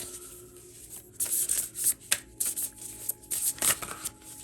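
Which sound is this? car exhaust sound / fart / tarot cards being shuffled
tarot cards being shuffled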